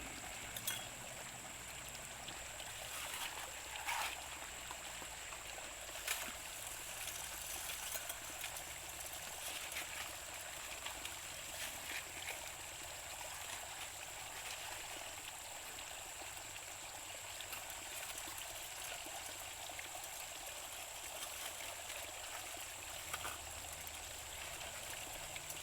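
Water pumped through a Gold Fox Mini Monster sluice flows and trickles steadily at close range, a constant wash with small splashes and no voices.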